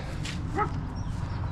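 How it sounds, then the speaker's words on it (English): A dog barks and yips somewhat distantly near a flooded, forgotten railway line, a couple of short calls over a steady low rumble of outdoor background noise. "Scary dog sound."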